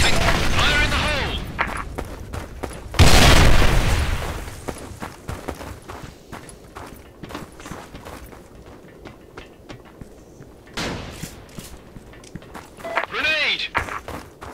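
A grenade blast in the shooter game Special Force 2 lands as a loud, broad burst about three seconds in. Gunfire, footsteps and shouting voices surround it.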